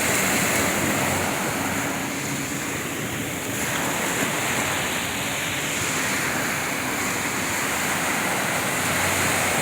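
Surf washes steadily along a Dominican Republic beach, a continuous loud roar of breaking waves with a slight swell and dip midway, heard alone without voices.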